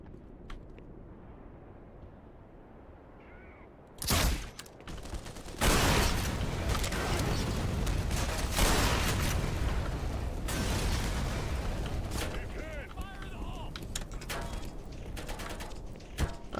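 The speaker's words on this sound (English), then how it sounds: "I saw that grenade." A grenade detonates in Black Mesa with a sharp loud burst, then a long roaring blast of debris and rumble that fades slowly over many seconds, no voices over it.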